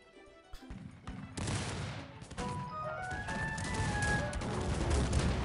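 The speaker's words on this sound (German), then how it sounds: "Guck, eine Salve komplett vernichtet." A cannon volley in the video game Cossacks 3 erupts as a dense, continuous barrage of booming shots and crashes that swells and stays loud. Faint tonal game sounds run underneath.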